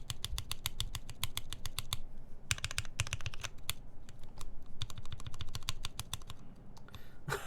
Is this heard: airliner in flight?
no